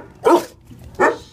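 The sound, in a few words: dog barking at an animal shelter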